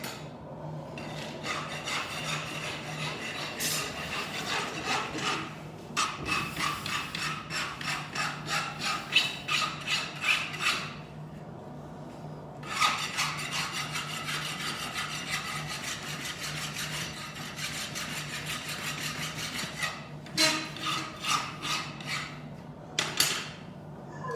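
A wood rasp files and smooths a piece of wood in steady, rhythmic scraping strokes, close up, with a few brief pauses between runs of strokes.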